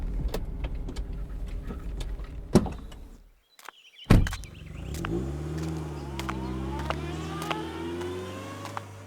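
A car pulls in and parks with engine hum, a door thud and a brief mechanical whine, then the engine note rises and settles into a steady idle at close range, with no talking.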